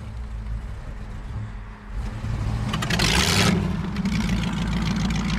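An old car engine with auto choke issues idles with a low, uneven rumble, rising briefly as it revs before settling back into a rough, steady drone.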